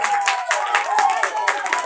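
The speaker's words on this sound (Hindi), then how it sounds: "भाई साहब के लिए एक दफा फिर जोरदार तालियां हो जाए।" Children clapping together in applause for a guest at a school programme celebrating 14 August, the claps dense and steady over a murmur of the crowd.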